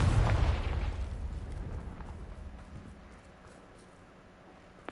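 Confringo fire spell exploding in the Hogwarts Legacy video game: a single loud, close blast at the start that rumbles and fades over several seconds, with no speech over it.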